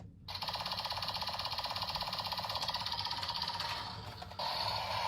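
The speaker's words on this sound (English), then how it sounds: "if you hold the button for however long, you get this sound" A steady, rapid electronic buzzing whir with a fast rattling pulse from a DonBlaster toy blaster with its button held, continuing for several seconds with a brief dip near the end.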